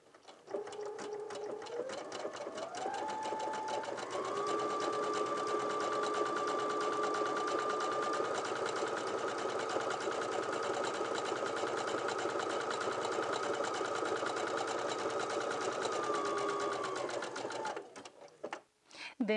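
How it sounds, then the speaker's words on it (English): A sewing machine runs an overcast stitch along the edge of fabric, a steady whirring hum with a rising pitch at the start that holds for about fifteen seconds before slowing and stopping, close and alone. "And then we will just begin to sew."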